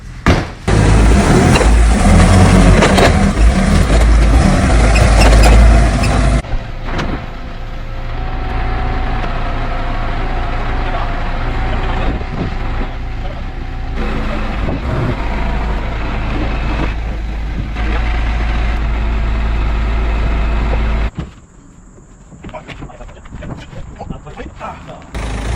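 A forklift engine runs loud and close, rumbling hard while moving a Toyota LandCruiser cab, then settling to a steady lower drone before dropping away near the end.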